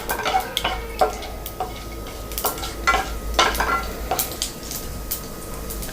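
Chana dal being stirred as it fries in a pan for a Tamil sundal, scraping spoon strokes and gentle sizzling over a low steady hiss.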